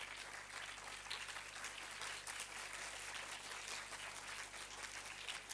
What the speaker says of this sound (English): the round of applause that you gave me for this announcement